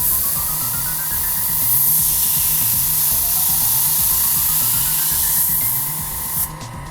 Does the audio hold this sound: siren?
no